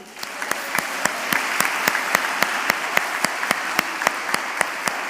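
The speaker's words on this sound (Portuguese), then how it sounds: "Você pode aplaudir Jesus por isso?" Church congregation applauding during a sermon on grace, a dense steady wash of clapping with sharper individual claps standing out at a regular pace, fairly loud and close, with no talk over it.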